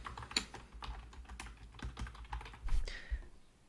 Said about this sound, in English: you just type into the placeholder